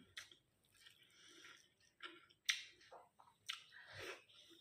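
Someone chews a mouthful of rice with mashed potato and onion, giving close, wet, squishy bites and smacks in irregular bursts with quiet gaps between them.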